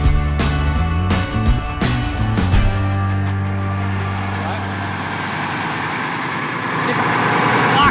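A bus engine idles close by with a steady low rumble, while people talk over it and a few sharp knocks sound near the start.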